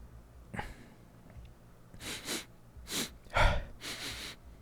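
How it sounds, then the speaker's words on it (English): Several quick, close sniffs and breathy snorts come in short bursts, with pauses in between. "I'm sniffing something here"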